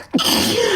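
A single sharp sneeze bursts out suddenly after a brief hush, loud and close, followed by a sustained breathy trailing noise in a casual podcast setting.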